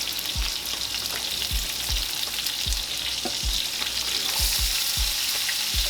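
Roughly chopped onions frying in a pan while smothered hamburgers cook, a steady loud sizzle with occasional low stirring knocks, close up and without talk.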